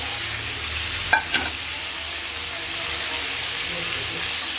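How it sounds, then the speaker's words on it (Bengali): Whole panch phoron, the Bengali five-spice mix, sizzles steadily in hot oil for a vegetarian curry, with a brief clatter of stirring near the start over a constant close hiss. "পাঁচ ফোড়নটা দিয়ে দিলাম"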